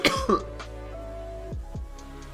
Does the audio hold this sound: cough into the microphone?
yes